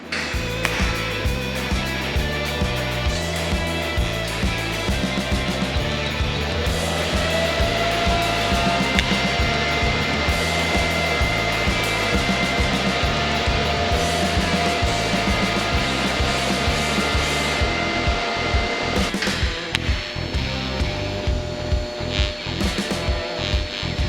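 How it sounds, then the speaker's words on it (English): Welding on a bench for a custom exhaust pipe for a 1930 Dodge pickup truck with a Cummins engine, a steady loud buzzing and crackling that runs continuously at close range, with a rhythmic low pulsing underneath and no talk. "weld it on the bench, it'll be a lot easier"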